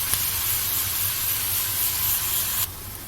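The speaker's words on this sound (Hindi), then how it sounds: "ये देखिए हमारी प्याज करीब करीब भुन चुकी है" Onions frying in a pan, a steady close sizzle and hiss that continues evenly, then drops in level near the end.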